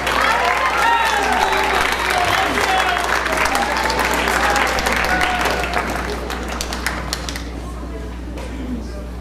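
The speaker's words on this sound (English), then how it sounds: "give your parents a round of applause" Sustained audience applause fills a school auditorium after a middle school winter band concert, a dense wash of many hands clapping that gradually thins and fades toward the end.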